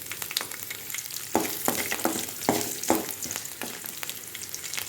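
Urad dal, garlic and ginger frying in hot oil in a pan, a close crackling sizzle broken by several sharp stirring clatters and scrapes, no voices.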